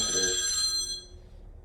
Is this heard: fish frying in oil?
no